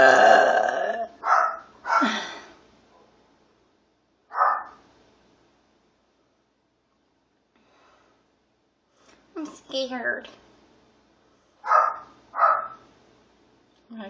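A dog barks and growls in short bursts spread across the stretch, close by, with a frightened person speaking between the outbursts.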